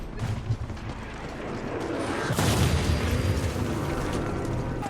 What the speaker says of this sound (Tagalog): si Megan ay nahulog dahil sa isang pagsabog